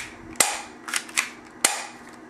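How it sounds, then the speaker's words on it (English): TSD spring pistol being fired: a few sharp, close snaps spaced unevenly over two seconds, with lighter mechanical clicks between them and no talk. "this is my spring pistol,"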